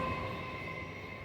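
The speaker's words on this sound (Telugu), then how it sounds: "చూడండి లోకల్ ట్రైన్ వెళ్తుంది" A local train passes right beside a house with a garden, giving a steady, fairly loud rumble of rail cars that holds evenly for a moment with no voices.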